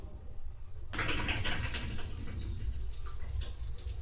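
Water splashes and rushes steadily as jamun blackberries are washed, starting abruptly after a short quiet moment and continuing close and fairly loud.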